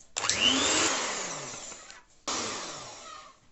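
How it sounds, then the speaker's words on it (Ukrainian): Electric hand mixer whipping sugar and cream into a fluffy white mass for a classic red velvet cake, a loud steady whir that stops briefly, then starts again. "додаю цукор, вливаю вершки, перемішаю, і тепер нам потрібно це все збити до пишної білої маси"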